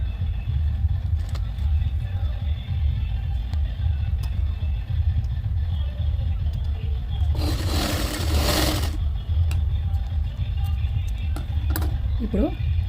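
A sewing machine stitches saree pallu fabric in a short whirring burst of about a second and a half, set against a steady low background hum.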